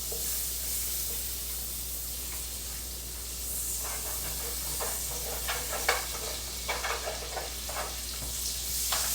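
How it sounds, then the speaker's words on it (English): Butter sizzling and frying in a pan as the bottom is deglazed, a steady hiss with scattered crackles and stirring scrapes building toward the end. "I'll see if I can kind of deglaze the bottom of the pan with some butter"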